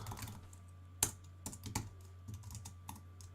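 Someone types CSS code on a computer keyboard, producing close, irregular keystroke clicks in quick bursts with short pauses between them.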